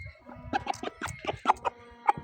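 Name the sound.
rooster clucking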